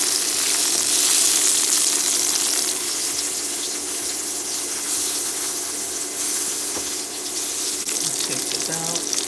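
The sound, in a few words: garlic mushrooms cooking in a pan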